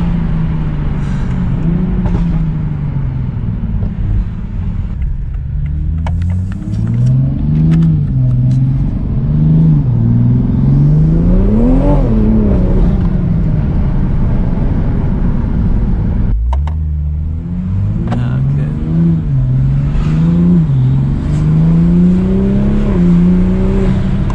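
A Toyota Supra, built up at a performance shop, revs hard and accelerates with its tires spinning for lack of traction, the engine note climbing, dropping and climbing again in loud, close, continuous surges with no talk.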